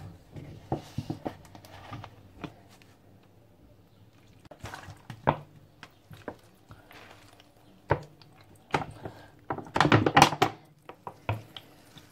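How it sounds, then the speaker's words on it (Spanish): Water running into a plastic bottle while building a homemade hydroponic planter, heard as soft liquid trickles and splashes with intermittent knocks and handling sounds, growing busier toward the end. "Entonces vamos a llenarlo de agua."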